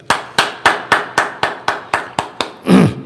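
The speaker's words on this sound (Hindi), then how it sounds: "चलिए दोस्तों, एक अच्छी ताली के साथ" Rhythmic unison hand claps at a church worship gathering, about ten evenly spaced sharp claps close and loud, followed by a brief burst of a voice or cheer at the end.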